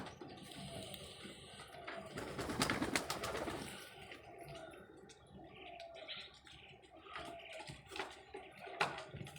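Pigeons being fed coo softly and repeatedly nearby, their low calls mixed with rustling and some watery splashing, with no talking.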